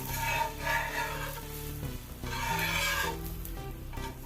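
Wheat dosa sizzles in oil on a hot pan, a continuous soft crackling hiss that holds steady throughout, quiet and close with no talking.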